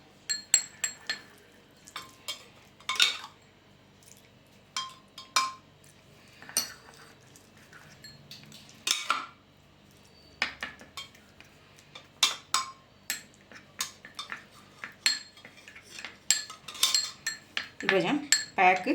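Spoon clinking against a bowl while mixing a homemade toner face pack, with repeated sharp taps and scrapes in an irregular rhythm, close and fairly quiet, no talking.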